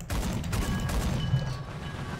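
Rapid cannon fire from a 37mm anti-aircraft gun on a self-propelled anti-aircraft vehicle in War Thunder, a dense, continuous barrage of heavy booming shots with a rumbling low end, steady and loud throughout.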